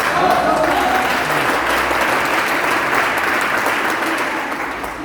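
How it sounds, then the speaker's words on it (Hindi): A large audience at a trading company's training event gives loud, sustained applause to welcome the founders, a dense, steady roar of clapping that eases slightly toward the end. "आप लोग अपनी जगह पर जोरदार तालियों के साथ, धमाकेदार तालियों के साथ स्वागत कीजिएगा"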